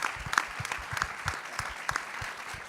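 Applause from a panel audience honours City of Boston staff: many hands clapping in a steady, moderately loud wash with a few crisp individual claps, no talking over it.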